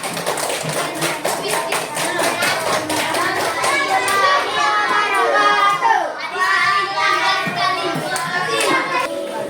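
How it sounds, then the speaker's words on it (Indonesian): A crowd of children clapping together, steady applause that continues for several seconds with some young voices mixed in. "Silakan beri tepuk tangan untuk kelompok 2."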